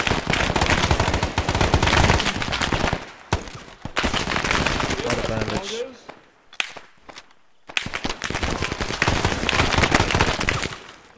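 Rapid automatic gunfire from the video game ArmA rattles in long loud bursts, broken by a brief quiet lull with scattered shots and footsteps, then resumes, with voices mixed in.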